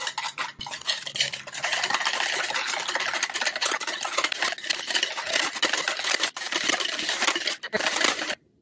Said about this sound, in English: Keep whisking.